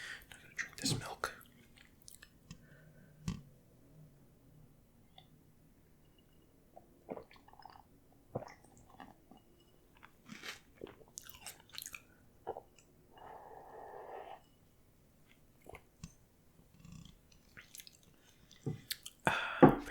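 Someone eats apple cinnamon Cheerios cereal with milk, close and quiet, with scattered crunches, soft wet chewing and slurping clicks separated by near-silent pauses.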